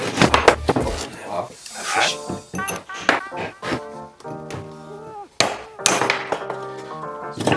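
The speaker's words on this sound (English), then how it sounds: "This is gonna require a hammer and a chisel" Hammer blows drive a chisel into a camp kitchen knife handle with a Micarta liner, a rapid run of sharp metallic knocks and ringing taps, with people talking intermittently under the work.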